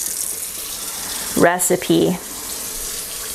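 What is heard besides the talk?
tap water filling a jar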